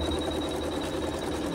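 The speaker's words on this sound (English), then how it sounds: "I'm just going to let the machine sew a tack down stitch." A sewing machine runs a tack-down stitch on fabric at the edge of a section, a steady, even mechanical hum throughout with no voices.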